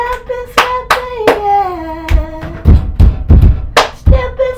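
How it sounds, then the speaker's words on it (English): Hands clapping and finger snapping in a song, a steady run of sharp, close percussive hits, some crisp snaps and some fuller claps, mixed with sung tones. "snapping, clapping, clapping,"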